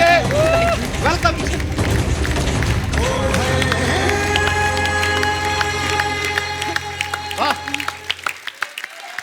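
A studio audience on a comedy show applauds and cheers as guests arrive, a dense steady wash of clapping and crowd noise running beneath bright background music that fades toward the end.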